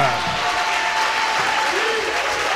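Church congregation applauding during a worship service: dense, steady clapping from a large crowd fills the whole moment, loud and continuous without a break.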